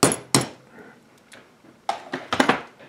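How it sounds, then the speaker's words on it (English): A hammer taps out the knurled pin holding the float in a Walbro WF carburetor from a 1975 Arctic Cat Panther 440 snowmobile, with two sharp close knocks followed by a quicker cluster of metallic taps. "So we get a hammer and give it a little knock."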